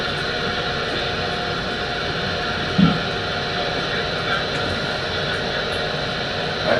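Steady broadband engine drone fills a small airplane cockpit in flight during a flying lesson, continuous and loud, with a brief bump near the middle and no clear speech over it.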